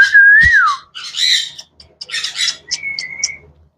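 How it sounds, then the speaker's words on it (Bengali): A pair of tame white parrots calls up close, with a long sliding whistle followed by a string of raspy squawks, chirps and short whistled notes, all without any talk. "আছে দুইটা সাদা টিয়া পাখি, এই যে দেখেন"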